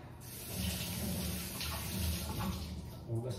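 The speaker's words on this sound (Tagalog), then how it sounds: "Hugas kamay." Tap water runs steadily over hands being washed at a meal table set with roast chicken and potatoes, a continuous close splashing rush with faint voices in the background.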